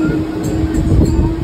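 A crowded Thane local train is running, heard as a loud, continuous, close rumble of wheels and carriage noise with no pauses.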